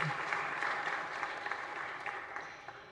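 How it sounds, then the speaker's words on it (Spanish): Applause from a congregation in a chapel, continuous clapping that stays fairly faint and even for a few seconds. "Un aplauso para ellos."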